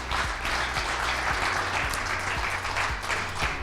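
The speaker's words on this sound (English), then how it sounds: "let's give him a big round of applause" A seated audience applauds a speaker as he is called up to the stage, giving a steady, even spread of clapping at moderate volume with no talk over it.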